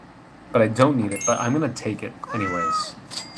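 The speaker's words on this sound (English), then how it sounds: "That's a cat. I don't need the cat." A short cartoonish cat meow sound effect from the video game Super Auto Pets, heard under someone talking over gameplay.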